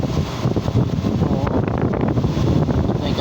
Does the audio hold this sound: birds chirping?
no